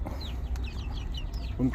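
Backyard chickens cluck in short, close bursts while eating cassava, with a louder squawk near the end.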